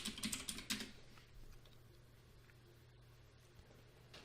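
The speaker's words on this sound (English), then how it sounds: "I'm going to go to a browser and I'm going to type www.jetbrains.com." A short flurry of keystrokes on a computer keyboard while typing a web address, soft and close, fading after about a second into quiet room hum.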